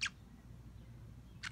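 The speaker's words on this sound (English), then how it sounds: "Is that your happy chirp?" Two short, high chirps, one at the very start and one near the end, stand apart against quiet low background noise.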